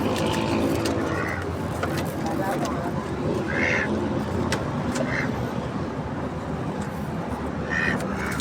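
Ducks quack in short bursts several times over steady background noise, with a voice speaking intermittently nearby.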